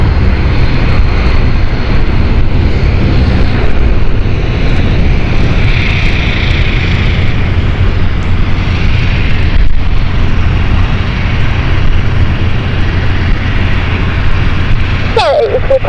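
An ITA Airways airliner at London City Airport, its engines giving a loud, steady roar that holds unbroken throughout at close range, with a faint voice underneath.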